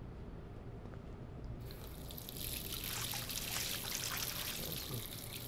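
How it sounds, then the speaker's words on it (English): Running water from a tap splashing onto a face in the video game Life Is Strange, a steady trickling pour that grows fuller and brighter partway through, close and continuous with no talk. "Cold water on the face, Max."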